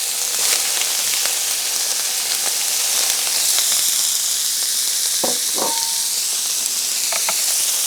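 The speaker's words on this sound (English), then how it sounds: "I'm going to brown off my beef. I'm just going to add that to the pan." About two pounds of beef browning in olive oil in an electric skillet, a loud continuous hissing sizzle throughout, with a few brief clinks and scrapes of a utensil near the end.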